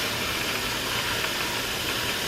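Steady hiss of steam venting from a pressure canner while potatoes are canned, a constant broadband rush without pauses or voices.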